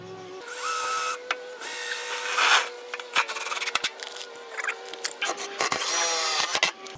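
A self-tapping screw grinds and rasps into wood on a shed extension in several bursts, with short pauses between drives and a final tightening whine, close and fairly loud.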